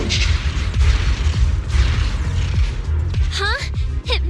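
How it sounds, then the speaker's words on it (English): A guided missile explodes in the video game Zenless Zone Zero, with loud repeated booming blasts over a rumbling low end and sweeping electronic tones near the end. "Guided missile launched"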